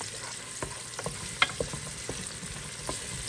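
Onions sizzle in a pan while a spoon stirs them, with soft scraping and tapping strokes over a continuous close frying hiss.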